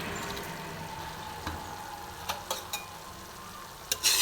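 Achari paneer masala sautés gently in a pan, a faint, steady sizzle broken by a few sharp clinks and scrapes of stirring near the end.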